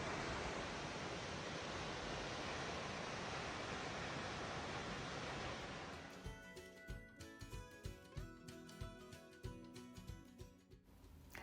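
A waterfall on a camping trip in coastal New South Wales, Australia, gives a steady, dense rushing roar for about six seconds before cutting to rhythmic music.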